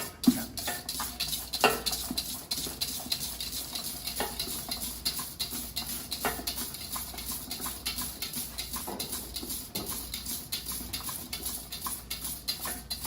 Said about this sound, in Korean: 이렇게 이제 설탕이랑 흰자랑 균형을 섞었어요